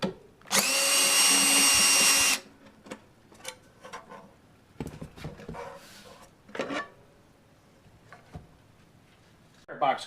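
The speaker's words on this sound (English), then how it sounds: "You will use a number 20 Torx driver for this too." Power driver with a number 20 Torx bit backing out the screws of a solar inverter's wire box cover, one loud sustained whir of about two seconds, followed by quieter handling clicks and taps.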